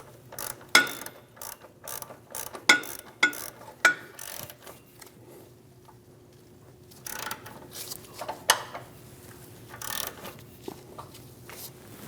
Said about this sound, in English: we're going to snug down the nut